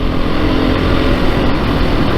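A 2022 Beta 430 RR-S dirt bike engine pulls hard through its mid-range, a loud, close, continuous throaty drone with no break and no talking.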